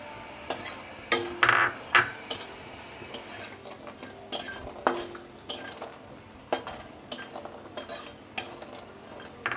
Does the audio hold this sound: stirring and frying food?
yes